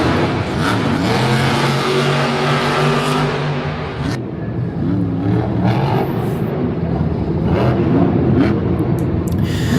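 El Toro Loco monster truck revving hard through a freestyle run at a stadium show in Lyon, France, the engine roaring loud and close with rising and falling pitch as it launches off cars, crowd noise beneath.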